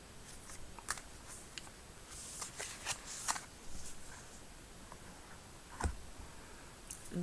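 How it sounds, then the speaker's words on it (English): Faint, close tarot card handling with scattered light ticks and riffling snaps at irregular intervals over a quiet background. "That's a good shuffle."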